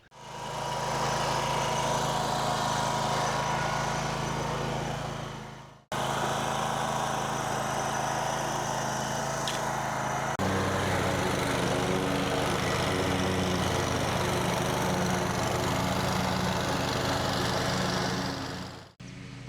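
Lawn mower cutting a path through a pasture, a loud, steady engine drone close by that stops briefly and restarts, then runs on with a slightly lower, rougher tone.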